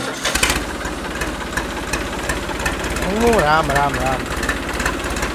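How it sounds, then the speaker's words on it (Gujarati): A farm tractor engine running nearby with a steady low rumble and knocking throb, while someone speaks over it. "જા ટ્રેક્ટર લઈને આજ ખેડીએ."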